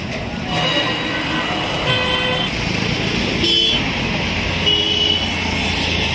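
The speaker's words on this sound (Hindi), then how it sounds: "यही गांधी सेतु का पुल है, गाड़ियों को आप जाते हुए देख रहे होंगे" Dense traffic crossing the Gandhi Setu bridge in Patna, with steady road rumble from cars and trucks and repeated horn toots sounding throughout, close and continuous.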